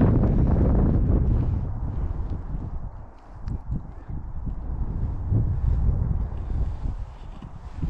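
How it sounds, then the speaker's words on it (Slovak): Strong, gusty wind buffets the microphone on a cold, rainy hilltop near the Jack and Jill Windmills, Wolstonbury Hill, with loud low rumbling that rises and falls steadily throughout and no talking. "fúka vietor, asi to pravdepodobne budete počuť aj vo videu"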